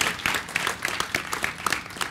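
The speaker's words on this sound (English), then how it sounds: "So we deserve some round of applause for that." Audience applause at a tech industry keynote for LivePerson, a scattered patter of claps rising and falling in uneven bursts, fairly faint and brief, with no one speaking over it.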